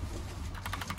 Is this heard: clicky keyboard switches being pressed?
yes